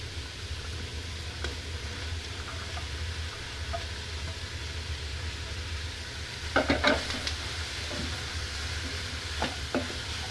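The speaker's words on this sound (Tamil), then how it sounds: "இப்போது நம்ம வெட்டி வச்சுருக்க அந்த கேரட்டு, பீன்ஸை போட்டு இதோட சேர்த்து கலரை விடணும்." Carrots and beans stirred into onions frying in oil for a Tamil nombu kanji, with a steady close sizzle and a few louder scraping stir strokes partway through.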